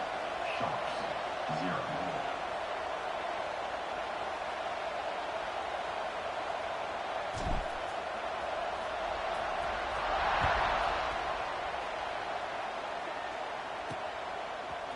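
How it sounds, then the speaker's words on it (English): A football stadium crowd buzzes after a score as a steady, distant wash of noise that swells briefly near the end, with no single voice standing out. "this crowd is buzzing after that last score"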